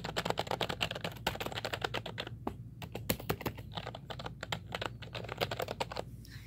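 Fingers type on a Redragon S101 computer keyboard, a quick, uneven stream of close, crisp key clacks with brief pauses between bursts and no talk.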